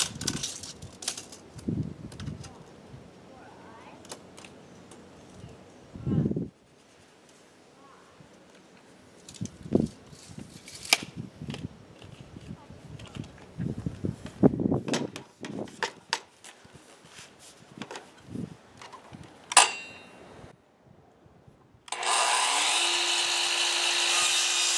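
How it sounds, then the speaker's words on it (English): A miter saw slices through a pipe about 27 inches long for a chicken feeder reservoir, heard as scattered handling knocks and scrapes before a loud, steady whining cut starts near the end and runs on alone. "got the miter saw ready, and we'll cut that pipe."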